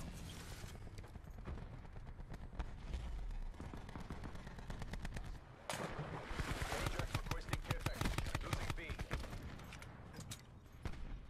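Paladin HB50 sniper rifle firing in Call of Duty: Black Ops 4 amid rapid in-game gunfire, dense crackling shots and bursts over about eleven seconds, loud and continuous with a brief lull midway.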